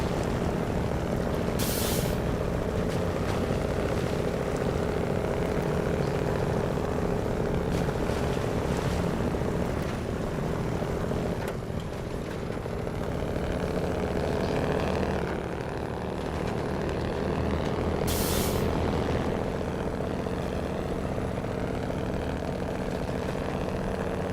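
A Kenworth truck's engine drones steadily through a stretch of SnowRunner, a continuous loud mechanical rumble with a couple of brief sharp hissing bursts, no talking.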